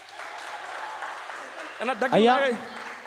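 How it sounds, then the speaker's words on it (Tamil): A church congregation claps in a steady, close wash of applause that lasts about two seconds, then fades as a single voice begins speaking. "கைத்தட்டுங்க."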